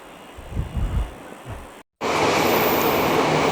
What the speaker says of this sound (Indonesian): Waduh, kelewat kereta bandara.